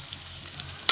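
Onions and green chillies fry with a low sizzle in a pan, ending in a sharp, loud scrape or clatter as the mixture is stirred.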